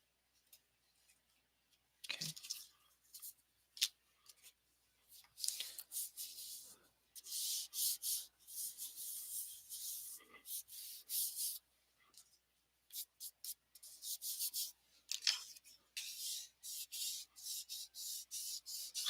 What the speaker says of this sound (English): Just gonna burnish this down.